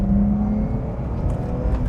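A car with a completely stock, very quiet exhaust accelerates, its engine giving a steady, muted drone with a low hum throughout and no other sounds.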